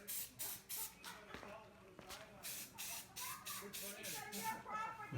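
Primer sprayed from a can onto a lantern fount in short repeated bursts of hiss, fairly close, with brief pauses between passes and faint handling noises, overall quiet.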